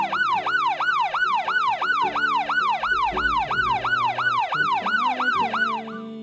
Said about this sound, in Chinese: 警车开过来啦！